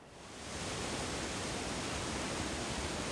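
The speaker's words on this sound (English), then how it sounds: "The sound and visual delight of falling water is one of the great joys of Rainier." Waterfall on Mount Rainier, water crashing over rock as a dense, steady broadband roar that swells in over the first half second and then holds loud and unbroken.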